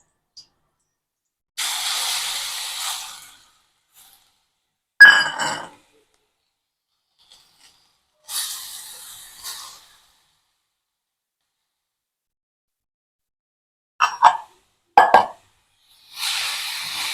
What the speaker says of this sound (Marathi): या साजूक तुपामध्ये आपल्याला भोपळा छान परतून परतून घ्यायचा आहे.